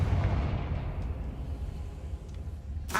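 A Confringo blasting-spell explosion in Hogwarts Legacy, a loud deep boom with rumbling low-end roar that decays over a few seconds, followed by a sharp burst at the end.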